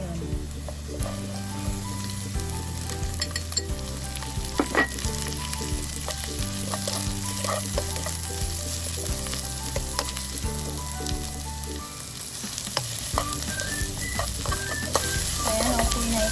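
Onion sizzles in hot oil in a pan while being stirred, a steady loud frying crackle with clinks of the utensil, and music plays beneath it.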